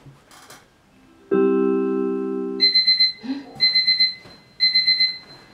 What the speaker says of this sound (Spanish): Puede ser una alarma o un despertador.